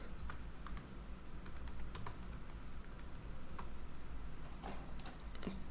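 Continuous typing on a computer keyboard, a quick irregular run of light key clicks close to the microphone over a low steady hiss, with no voices.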